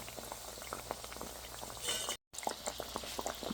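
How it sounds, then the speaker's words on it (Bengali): Pastry dough sizzles and bubbles in hot oil over low heat, a steady close frying hiss with scattered pops and crackles, turned over slowly as it browns; a short dropout breaks it midway. "কমিয়ে রেখে উল্টিয়ে পাল্টিয়ে ভেজে নেব।"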